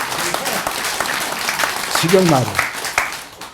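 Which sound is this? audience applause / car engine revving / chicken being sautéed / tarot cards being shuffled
audience applause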